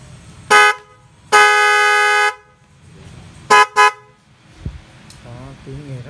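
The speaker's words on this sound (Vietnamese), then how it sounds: "tiếng là còi xe tải nghe rất rõ" A pair of 12V snail horns made for trucks and motorbikes is tested, blaring in loud bursts: a short toot, a longer sustained blast, then two quick honks, with quieter voices in between.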